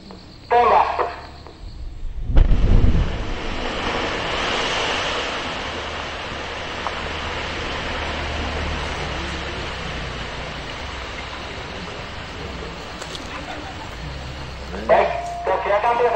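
An explosive blast at an andesite stone quarry in Kulonprogo: a sudden heavy boom, then a long, broad rumble and wash of falling rock that slowly fades, with voices near the start and end.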